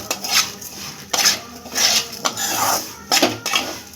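Semai vermicelli is stirred and fried in a pan for Eid semai payesh, with a metal spoon scraping and clinking against the pan in short irregular strokes, fairly close and loud, no speech.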